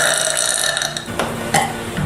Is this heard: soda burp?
yes